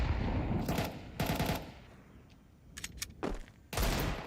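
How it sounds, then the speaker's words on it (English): Warning shots from an AK in Counter-Strike: several short, sharp bursts of rifle fire spaced apart, loud and close, with quiet gaps between them. "Warning shots fired."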